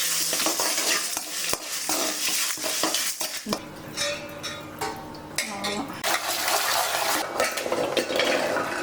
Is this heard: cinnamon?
yes